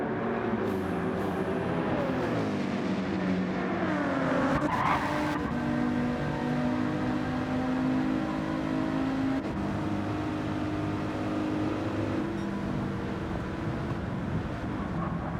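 Race cars in a sim racing league event at Watkins Glen sweep through the opening turns, engines droning and shifting pitch with tires skidding and squealing, a dense continuous pack of cars close by.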